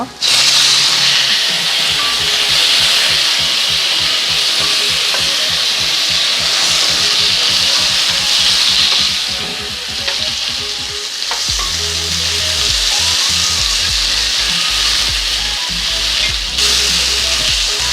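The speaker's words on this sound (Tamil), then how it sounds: "இது வந்து 3 நிமிஷமாக வதக்கி கொண்டிருக்கிறேன்." Tomato, ginger and garlic fry for an eggplant and potato curry with a loud, close sizzle, rapid rhythmic stirring scrapes for several seconds, then a lower, steadier hiss with a background hum.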